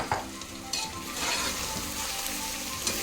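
Mutton marinated in salt, chili and masala fries in a pan, giving a continuous close sizzle with bursts of spattering and stirring, and no talking.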